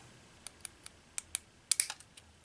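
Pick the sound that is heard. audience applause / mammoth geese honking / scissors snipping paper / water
scissors snipping paper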